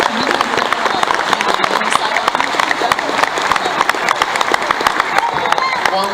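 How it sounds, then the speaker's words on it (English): Audience at an anime convention Q&A panel for a Zelda game breaks into loud, sustained applause, with dense clapping and some cheering filling the room for several seconds. "Everyone, please give a huge round of applause."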